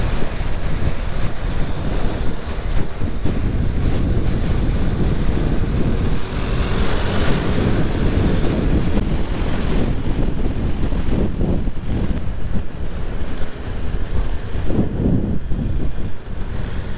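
Wind roaring and buffeting against a helmet while riding a motorcycle, such as a Suzuki Bandit or KTM Duke, a loud continuous rushing with gusty swells and no speech.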